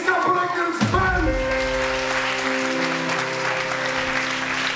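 A concert audience applauds a children's band, steady clapping that fills the space for several seconds and overlaps fading held musical tones at the start.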